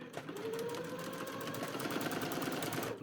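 A sewing machine stitches braid down onto a skirt, running in a steady continuous whir with a rapid needle rhythm close by, stopping at the very end.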